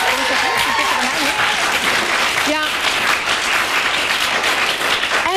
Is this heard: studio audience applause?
yes